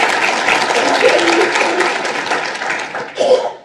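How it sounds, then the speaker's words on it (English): Audience applause fills a law school event hall welcoming two U.S. representatives, steady and loud for about three seconds before tapering off, with a short burst of crowd noise near the end. "Give them a nice round of applause."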